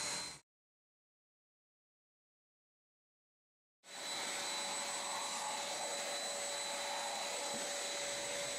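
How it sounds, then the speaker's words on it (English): A Hoover Platinum UH30010COM canister vacuum cleaner hums with a steady high-pitched motor whine, cutting out briefly near the start and then running loud and continuous to the end. "it wasn't always practical cleaning the hard flooring with the Canister vacuum"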